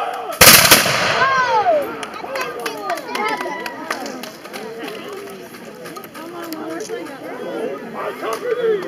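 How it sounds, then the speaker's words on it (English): A single loud musket volley cracks out at a Cowpens battle reenactment, then excited shouting and crowd chatter carry on underneath for several seconds. "These guns are very loud."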